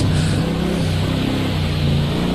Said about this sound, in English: I'm really struggling to hear you because this car is so loud.